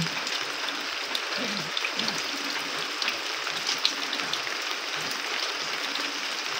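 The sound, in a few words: early morning rain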